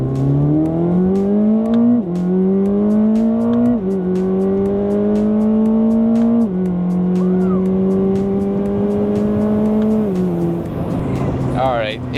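2026 Corvette ZR1 driven hard: a loud, close engine drone rises and drops through several gear changes, with a brief squeal near the end and voices talking over it.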